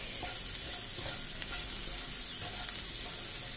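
Turmeric and coriander powder being stirred in a frying pan, with a steady close sizzle and soft spoon scrapes throughout and no talk.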